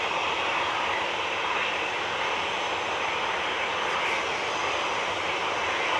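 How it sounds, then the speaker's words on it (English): A Singapore Airlines Airbus A350-900 arriving at Manchester Airport gives a steady, broad, fairly quiet jet rumble that holds level for several seconds with no talk. "Singapore, 302 from Singapore, 9VSMH, A350-900, arriving silently almost."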